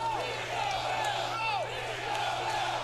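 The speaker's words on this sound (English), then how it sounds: "The crowd is chanting ring the bell" A wrestling arena crowd chanting "ring the bell" at an MLW Battle Riot event: a large, distant mass of voices in a rhythmic, sustained chant with a steady low hum beneath.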